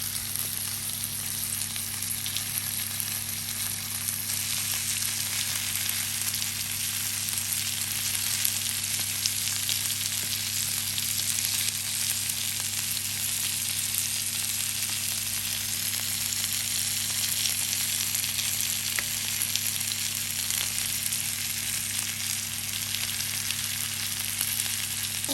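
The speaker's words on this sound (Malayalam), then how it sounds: "ഏകദേശം നമ്മുടെ മീനെല്ലാം ഫ്രൈ ആയി വന്നിട്ടുണ്ട്" Pomfret fillets fry in a pan of hot oil with split green chillies and garlic, giving a steady, loud, even sizzle that holds unbroken throughout with no talking.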